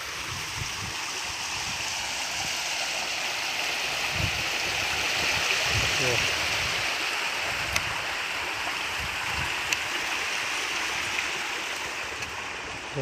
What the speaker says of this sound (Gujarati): કેનલમાં પાણી ચાલુ છે નહીં.